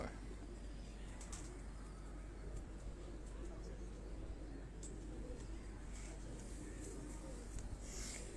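Khaki pigeons coo softly on a rooftop in Lahore, faint and distant over a low, steady background hiss.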